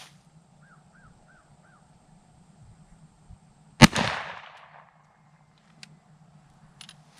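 A single loud shotgun blast from an AKSA S4 firing Herter's low recoil 8 pellet buckshot at a range, with a sharp report and brief decaying echo amid quiet outdoor ambience and faint crow calls.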